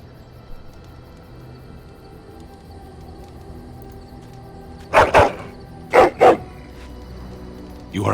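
A dog in Dragon Age: Origins gives two pairs of sharp barks, close and loud, over a low hum of game ambience.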